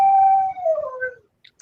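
A dog in its crate lets out one loud, close, long howl that slides downward in pitch and trails off, followed by a couple of faint short clicks.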